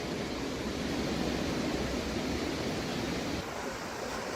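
Creek water flows in a steady, close broadband rush that stays even and fairly loud, with no voices over it.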